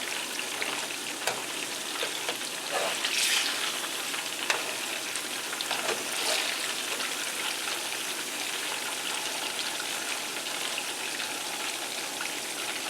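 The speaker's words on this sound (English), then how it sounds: "we're going to let this fry for a bit" Tilapia fries in a pan, giving a steady, dense crackling sizzle at moderate volume throughout, with a few brief louder spatters and no voices.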